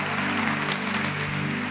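Steady applause from a gathered crowd at a church-style service, dense continuous clapping heard throughout at moderate distance, no clear voices over it.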